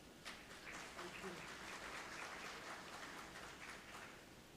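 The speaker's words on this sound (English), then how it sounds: "A sustained round of applause once more." Sustained audience applause fills a hall at a higher education leadership conversation, a faint, steady wash of clapping with talk mixed in.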